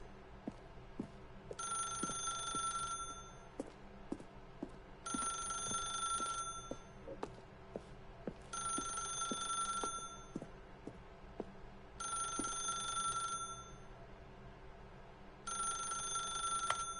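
A telephone in The Stanley Parable rings with five evenly spaced bursts of a bright bell, each lasting about a second and a half, separated by pauses, over faint background noise.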